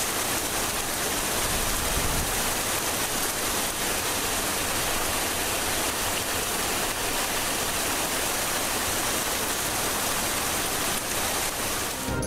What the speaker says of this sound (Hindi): बालाई मकामात पर बारिश।